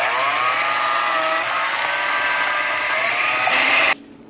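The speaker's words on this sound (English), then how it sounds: "I'm gonna mix this with my whisk attachment." A stand mixer with a whisk attachment whips eggs and honey, giving a loud, steady high motor whir close by with no talk that stops abruptly at the end.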